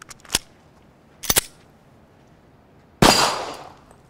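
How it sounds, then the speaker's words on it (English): A Smith & Wesson M&P 40 pistol fires three sharp shots, the first two spaced about a second apart and the last louder with a lingering ring, alone without talk. "Let's try shooting it now. First, we're going to shoot it in 40."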